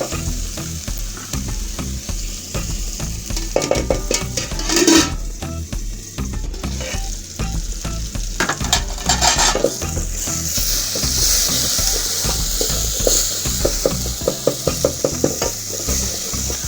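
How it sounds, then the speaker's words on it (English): Tomatoes frying in a covered pan for a pumpkin potato curry, a continuous close sizzle with intermittent scrapes and clinks of a utensil against the pan. "So I'm going to leave my tomatoes to cook for almost 2 minutes"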